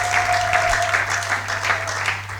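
A church congregation claps in a steady continuous wave of applause, fairly close and dense, with a faint tone running underneath.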